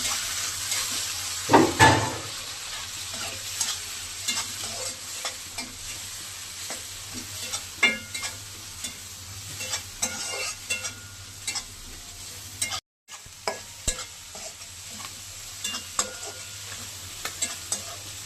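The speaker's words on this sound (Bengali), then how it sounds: "এখন আমি চিংড়ি মাছ দিয়ে আর একটু ভাজবো।" Shrimp fry in a spice paste for Barishal-style spinach with shrimp, a steady close sizzle broken by repeated scraping stirs, a louder clatter early on and a brief pause partway through.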